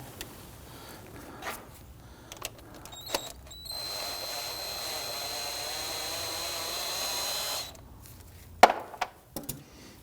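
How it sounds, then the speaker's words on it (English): A power tool, likely a drill or impact driver, runs for about four seconds in one steady sustained burst while a brake hose bolt and its washers come off a 2013-2019 Ford Interceptor Utility. Brief tool clicks and clunks come before and after it. "Now I want to go ahead and remove the bolt and washers."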